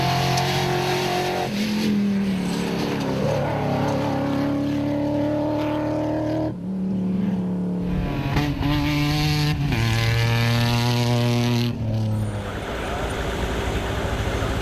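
Rally cars racing on a dusty, pitted track at the 2009 Baja Spain event, loud engines revving and shifting gears as they pass close, with a continuous roar and rising, falling pitch.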